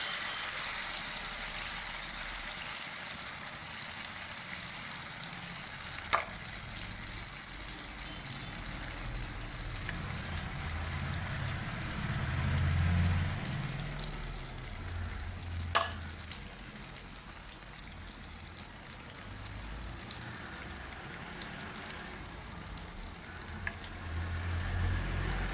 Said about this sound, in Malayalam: പഴം ബാറ്ററിൽ മുക്കിയിട്ടാണ് എണ്ണയിൽ വറുത്ത് പോരുന്നത്